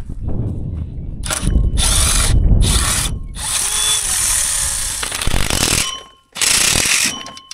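A tool works the hose clamps off a defective stainless lower manifold for a John Deere 1910: loud, close, repeated bursts of mechanical whirring and clattering, separated by short pauses.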